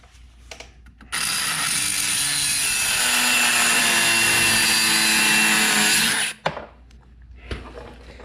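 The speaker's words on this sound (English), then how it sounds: "we're gonna take our cutoff wheel on our cutoff tool, die grinder, whatever you wanna call it, and we're gonna cut it right there" A cutoff wheel on a die grinder slices through a brake cable on a 2005 Buick LaCrosse, a loud, sustained high-pitched whine and grinding screech lasting about five seconds, bracketed by quieter clanks and handling noises.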